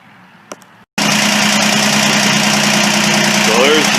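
A diesel engine on a modified garden tractor starts after a short quiet pause, then idles loudly and steadily close by with a constant rumbling vibration.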